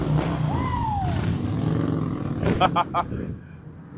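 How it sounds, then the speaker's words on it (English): Street traffic rushes past at a steady, continuous level with low rumble and gusting wind noise, while a brief rising engine whine sweeps by and a few short bursts of nearby voices cut in near the end. "We got good traffic here. Got good wind noise."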